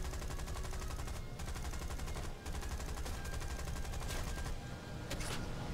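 Sustained rapid aircraft gunfire from a Bristol Beaufighter in the War Thunder video game, a loud continuous rattling burst with brief pauses, no talking over it.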